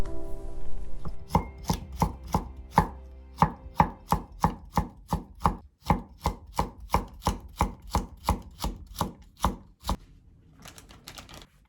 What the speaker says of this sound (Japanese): 周りの硬い部分を包丁で剥いてから薄切りにしていきます